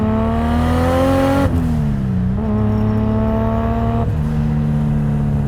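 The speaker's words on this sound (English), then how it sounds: "the Borg Warner is an insanely loud turbo. I mean, you hear it spool up, you hear it spool down" A 2JZ-powered Nissan S14 making about 680 wheel horsepower pulls hard with a Borg Warner turbo, its loud engine note climbing steadily through gear changes, with rising whine and brief dips between shifts, heard from inside.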